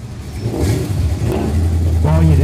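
A carbureted, normally aspirated Ford Maverick race car at a no-prep drag race revs its engine, rising in loud surges close by, with a voice talking over it.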